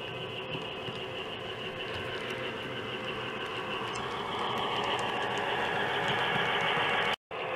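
A switcher locomotive running steadily nearby, a continuous rumbling mechanical drone with tonal hum, ending in a brief sudden cutout.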